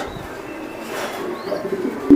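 Racing pigeons, veterans of fifteen races, murmur low coos in a steady blur, partly buried under constant background noise, with a slightly louder call rising near the end.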